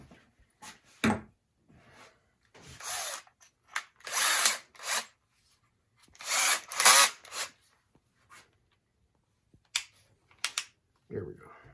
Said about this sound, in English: All right, now I'm just gonna get my drill.